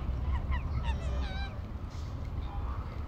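Waterfowl at Lake Apopka giving a quick series of nasal, honking calls over a low outdoor rumble. The calls are moderately close and cluster early before fading to scattered faint notes.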